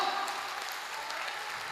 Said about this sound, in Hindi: एक बार कविता के लिए तालियां होनी चाहिए आपकी